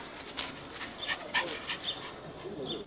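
A dog named Tallulah whimpering, a few soft high whines and faint panting at close range amid a busy family gathering's room noise, with no clear talking.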